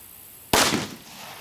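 One sharp blast from an individual firecracker off a firecracker strip cracks out loudly against quiet outdoor air, its echo fading quickly.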